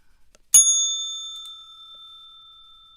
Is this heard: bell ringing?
yes